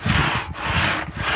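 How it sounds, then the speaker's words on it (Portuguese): A two-man crosscut saw (traçador) cutting timber the old way, with loud, close, rhythmic rasping strokes and brief gaps as the blade changes direction. "era tudo feito na base de traçador"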